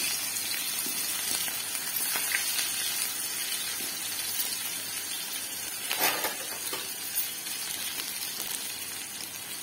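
Onion and dried red chili sizzle in hot oil in a pan, a steady close frying hiss that runs throughout with a few faint stirring clatters.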